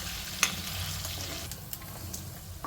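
Ingredients for egg curry being lightly fried in a pan, a quiet continuous sizzle with a few stirring clinks and scrapes, no voices.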